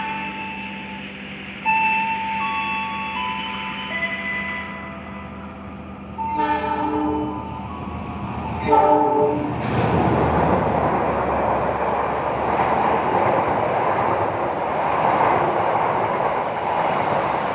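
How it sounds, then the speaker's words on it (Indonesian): Argo Bromo Anggrek passenger train on an Indonesian main line, announced by a long horn blast with several tones, then passing close by with a loud, steady roar of wheels and cars. "Melintas langsung kereta api Argo Bromo Anggrek."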